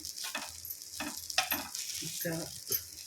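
Soyabean kababs frying in hot oil, giving a continuous close sizzle with intermittent stirring clatters and rattles.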